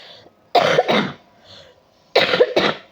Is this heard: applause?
no